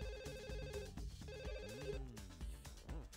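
Ringing of a phone inside The Sims Bustin' Out on PS2, a repeating electronic trill over game background music, fairly loud and continuous with no talk.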